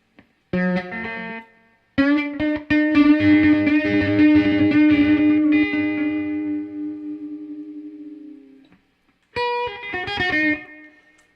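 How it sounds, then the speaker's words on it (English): An electric guitar plays chords and single notes through a Caline Ghost Rain reverb and delay pedal, the tones washing out in long reverb and echoing delay trails, then a brief strummed phrase returns. "it does sort of have an ambience like a reverb and a delay in one"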